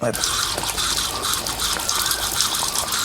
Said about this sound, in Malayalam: എന്നിട്ട് വെള്ളം നിറയ്ക്കാം